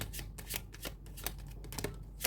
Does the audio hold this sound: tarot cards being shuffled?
yes